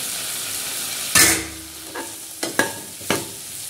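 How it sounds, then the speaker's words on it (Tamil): Bitter gourd pieces stirred and sautéed in a hot pan, giving a sharp burst of sizzling scrape followed by several shorter spatula strokes, close and fairly loud with no one talking. "அப்படியே கிண்டி கொஞ்ச நேரம் வதக்குவோம்."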